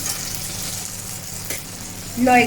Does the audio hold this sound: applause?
no